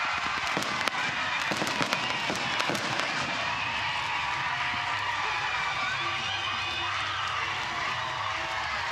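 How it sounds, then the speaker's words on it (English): Fireworks crackle and pop continuously over a loud, roaring crowd at an NCAA women's soccer match, with sharp bursts clustered early and a steady dense din throughout. "A firework display on and off the pitch here."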